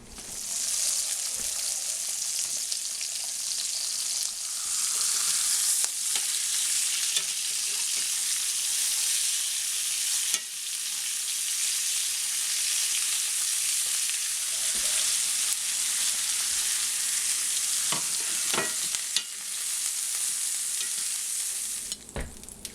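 Pork chops fry in a pan with garlic powder added, giving a loud, continuous sizzle throughout with occasional faint clinks and shifting.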